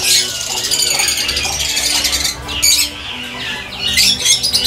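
Lovebirds chatter and squawk close by in a breeding aviary, a dense run of shrill, scratchy calls with brief pauses and overlapping bursts.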